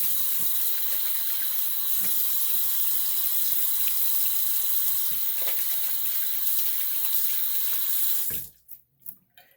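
Water running steadily from a tap while rinsing, a close, constant splashing flow that stops near the end, followed by a few drips.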